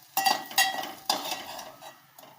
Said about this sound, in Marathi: आता एका ताटात काढून घेते